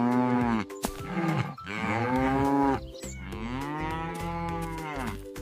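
Loud, drawn-out cow moos, three long bellowing calls one after another with brief gaps, close and clear with no talking, on a farm.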